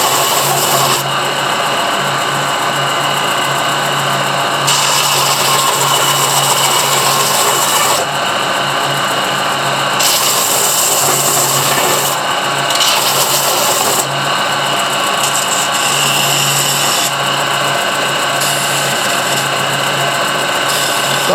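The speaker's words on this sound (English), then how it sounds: "since I'm going to have the sander out, I might as well do it all" A power sander buzzing loudly and continuously while smoothing the corners of small Lebanese fossil plates, its pitch and grind shifting as it touches and lifts off the stone.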